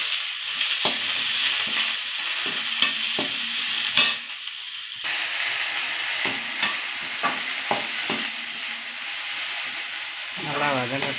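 Garlic, ginger, curry leaves and onion sautéing in a pan for tomato gravy, a loud, steady sizzle broken by repeated scraping stirs, with a brief lull partway through and a hissing swirl near the end.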